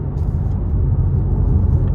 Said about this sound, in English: And a nice groan from the exhaust in this track mode.